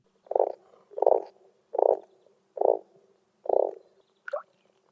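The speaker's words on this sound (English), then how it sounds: "Yeah, I have frogs and they make sounds sometimes." Pet frogs croak indoors in five evenly spaced, close, resonant pulses roughly one per second, followed by a brief higher chirp, against near silence.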